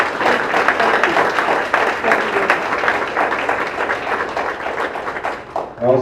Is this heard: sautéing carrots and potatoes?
no